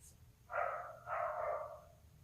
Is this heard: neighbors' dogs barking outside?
yes